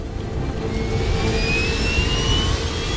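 Airliner jet engines roar steadily during the takeoff roll down runway 3C, a loud sustained rumble with a rising high whine that climbs across the clip, with no voices.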